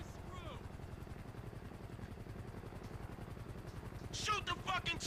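A helicopter in a video game hovers close with a steady rhythmic rotor thump throughout, joined near the end by bursts of gunfire, while a player talks over it.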